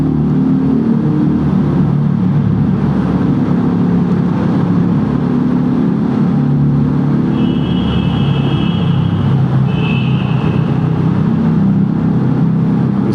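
A 650cc motorcycle engine, one of several bikes riding together, roars steadily and echoes inside a mountain road tunnel, a loud continuous drone with rising throttle and a brief high whine partway through.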